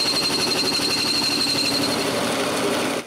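Bandsaw cuts through a wooden blank in a steady loud buzzing drone that stops abruptly at the end.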